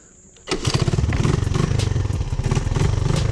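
A Honda ATC three-wheeler engine starts abruptly after a quiet moment, then runs steadily with a loud, close, throbbing putter and occasional revs, never settling to an idle.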